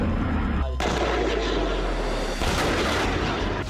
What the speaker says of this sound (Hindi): खेरसोन में जबरदस्त आर्टिलरी प्रहार किया गया